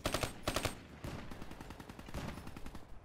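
Rapid automatic gunfire in Call of Duty: Black Ops 3, bursts of sharp rattling shots with a short pause, then sustained fire, fairly faint and distant, with no talk.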